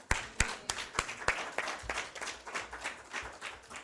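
Audience applause welcoming a workshop facilitator, with a few sharp claps early on, then a steady patter of clapping through the whole stretch, moderately loud and not close.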